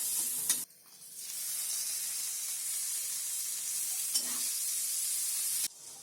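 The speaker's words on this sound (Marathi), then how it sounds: "आता त्याच्यामध्ये पनीर टाक आणि फ्राय कर" Paneer masala sizzles and hisses in a pan while being stirred, Konkani style. The frying is loud and steady, broken by brief scraping stirs and a couple of short pauses.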